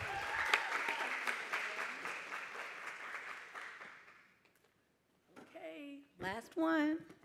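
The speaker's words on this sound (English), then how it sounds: "Let's give a warm round of applause for Sarah." Audience applause at a math educators' Ignite talk event, a dense clapping wash fading out over about four seconds before a speaker resumes talking.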